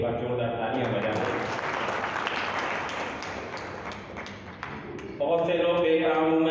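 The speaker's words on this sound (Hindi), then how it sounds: "मैं चाहता हूँ उनके लिए भी एक बार जोरदार तालियां बजा दें" A crowd at a Haridwar comedy poetry gathering applauds loudly for the MLA, dense sustained clapping that fades slightly before a voice takes over near the end.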